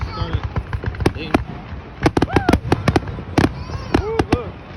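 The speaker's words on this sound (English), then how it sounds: "Ooh, look. What's that? Fireworks." Fireworks crack and pop in a rapid irregular series of sharp, loud bursts, some clustered and others spaced apart. Voices talk and exclaim between and over the bangs.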